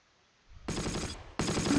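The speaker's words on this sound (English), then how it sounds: "Oh, we're taking fire" Bursts of automatic gunfire in the World War II strategy game Close Combat: Last Stand Arnhem, two loud sustained volleys of rapid machine-gun fire.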